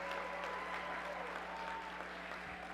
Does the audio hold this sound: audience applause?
yes